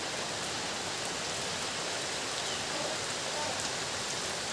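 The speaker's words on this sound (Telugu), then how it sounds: "ఫుల్గా వర్షం పడుతూ ఉంది ఇప్పుడైతే." Heavy rain pours down on a tribal village: an even, hissing downpour, loud and steady, with the patter of drops on surfaces filling the whole moment.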